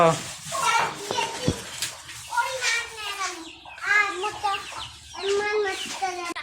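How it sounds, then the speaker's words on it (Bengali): A chicken clucks repeatedly at close range around a home, its short calls mixed with the voices of adults and someone talking throughout. "মুরগিটাকে পিছাও মুরগিটা পিছাও"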